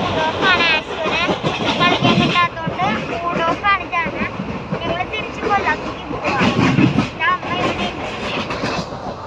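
A train running along rails, with a steady rumbling roll and rhythmic clatter throughout, while people talk over it nearby.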